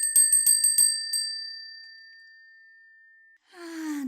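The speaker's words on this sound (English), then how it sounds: "the serene chimes of the Feng Shui bell" A small Feng Shui bell rings with a few quick bright strikes, then one clear tone rings on and slowly fades before someone breathes out audibly.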